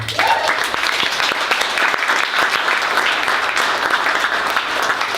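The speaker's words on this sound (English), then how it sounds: "Can we give them a big round of applause?" Audience applause at a bookstore event fills the room, steady and dense clapping from a crowd that holds at a constant level for several seconds without talk.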